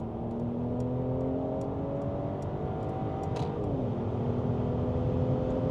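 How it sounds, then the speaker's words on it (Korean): Mercedes-Benz S450 with a six-cylinder engine accelerating hard at full throttle in comfort mode, a steady loud engine drone rising in pitch inside the cabin with road noise, then easing back near the end. "컴포트 모드고 가속 페달은 끝까지 한번 밟아보겠습니다"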